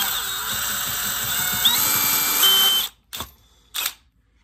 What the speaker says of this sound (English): drill a hole through it right here